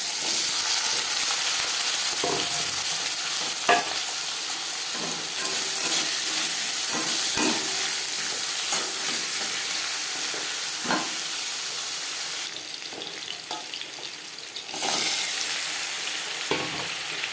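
Potato pieces hitting hot oil already crackling with whole cumin seeds for a Bengali vegetarian potato and okra curry, a continuous loud sizzle with occasional stirring clicks, briefly fading then surging back.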